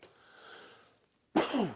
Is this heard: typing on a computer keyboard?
no